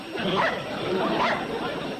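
A dog in a scene from the TV sitcom Petticoat Junction gives a few woofing barks and whimpers, nearby and moderately loud, mixed with people talking.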